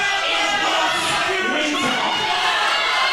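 A loud wrestling crowd roars with sustained, dense, jeering noise from start to finish.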